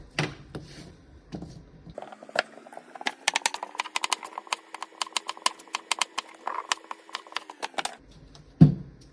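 A knife cuts through a potato on a cutting board in a rapid run of sharp wooden taps and thuds, close and crisp, with a few slower knocks before and after.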